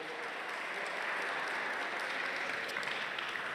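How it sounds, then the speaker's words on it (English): A gathered audience at a people's assembly keeps clapping for itself, a continuous, even wash of many hands throughout with no break. "Now just keep clapping and give yourselves a hand"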